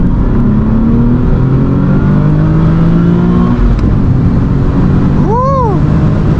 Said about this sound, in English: All right, second gear pull.